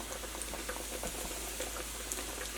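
Hot oil bubbles and crackles steadily as food deep-fries, with a dense stream of small pops and fizzing close by.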